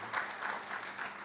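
A church congregation at a Sunday worship service claps together in a brief, fairly faint burst of applause with a few cheers.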